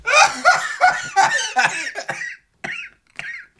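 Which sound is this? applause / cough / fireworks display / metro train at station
cough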